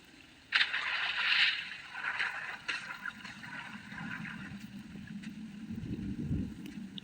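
A small boat glides across water in the side-scrolling game Limbo: a soft wash and lapping that swells early, then settles into a steady low churn of water, alone without talk.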